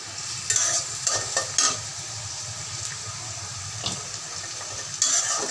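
Chopped onions fry and get stirred in a pan for a potato and boiled-egg curry, with a steady soft sizzle and several short scraping stirs breaking through. No one speaks.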